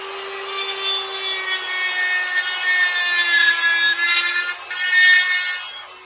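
A knife blade being ground on a grinder gives a steady, close, high-pitched grinding whine that holds for about six seconds, with no one talking.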